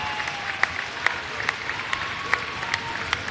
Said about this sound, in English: Roseburg Unified getting a big round of applause here tonight at halftime.